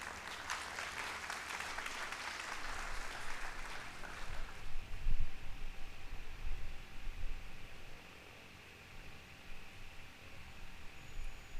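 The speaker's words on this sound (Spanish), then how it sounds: "Lo recibimos con fuertes palmas," An audience at the opening of a public directors' meeting gives a dense round of applause for about four seconds, then it fades into rustling and low room murmur.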